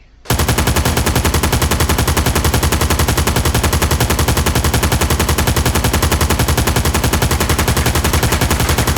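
An RPK machine gun fires from a kneeling position in one long, loud, rapid burst of evenly spaced shots that starts abruptly and runs without pause, close and alone.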